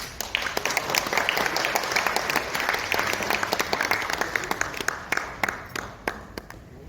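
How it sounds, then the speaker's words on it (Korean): Audience applause at an international academic forum in a Seoul hotel: a full burst of many hands clapping that thins into scattered individual claps over about seven seconds. "큰 박수 부탁드립니다."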